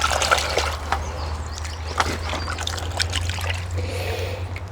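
Water trickles and splashes as it is poured out of a container outdoors, a steady close pour with irregular drips over a low background hum.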